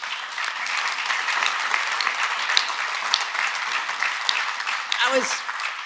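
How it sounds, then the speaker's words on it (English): Crowd applause at a public event with a state governor speaking, loud continuous clapping from a sizable audience with a brief voice or whistle rising near the end. "I think that gets a round of applause"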